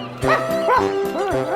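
A cartoon dog barks in three short, bright yips spaced evenly, close and clear against a quiet background.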